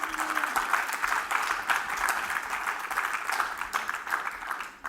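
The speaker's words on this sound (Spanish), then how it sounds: "Denle palmas al Señor por esta pareja" A church congregation claps for a couple soon to marry: dense, steady applause from many hands fills the room and fades slightly at the end.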